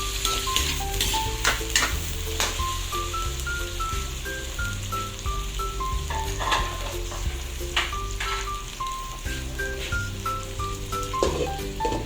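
Chicken pieces fry and get stirred in a pan for Filipino pancit, a steady loud sizzle with scraping stirs throughout, sounding alone against a faint background tone.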